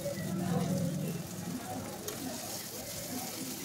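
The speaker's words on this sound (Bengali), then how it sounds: "পেঁয়াজ, আদা, রসুন, টমেটো, কাঁচা লঙ্কা এগুলোকে ভালোভাবে ফ্রাই করে নিতে হবে" Onion, garlic and ginger fry in an oiled pan, a soft continuous sizzle with occasional stirring, fairly quiet and close.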